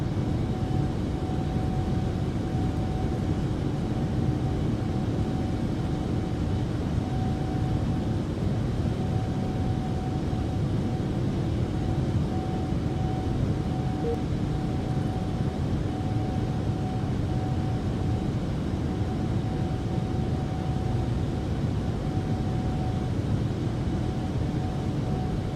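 A cargo airliner departure in a flight simulator game, heard as a steady, continuous engine roar with a faint whine, constant in level and unbroken by talk.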